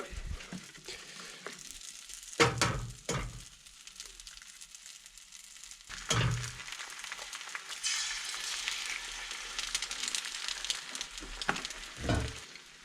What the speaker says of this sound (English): keep your inside pieces and fry them up